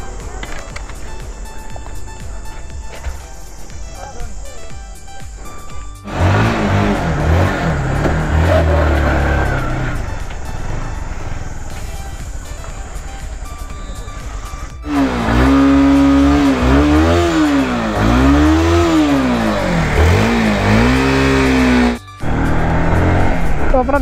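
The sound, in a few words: motorcycle engine warming up and revving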